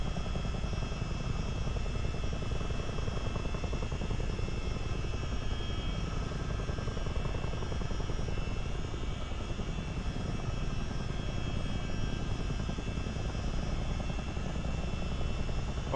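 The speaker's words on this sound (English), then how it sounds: "Let's start slowing the helicopter down." Steady rotor and engine roar of a CH-47D Chinook tandem-rotor helicopter in a Miltech Simulations flight game, a constant loud drone with a dense chopping texture that holds unbroken throughout.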